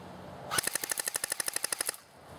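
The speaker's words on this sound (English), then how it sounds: "Now we're going to fire full auto." An airsoft MP40 electric gun firing full auto, a quick string of about fifteen sharp, evenly spaced clicking shots lasting just over a second, close and clear against a quiet background.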